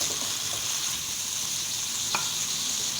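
Vegetables fry in a pan for chicken fried rice with a constant, even hiss of sizzling oil close up. A single short scrape of the spatula cuts through near the end.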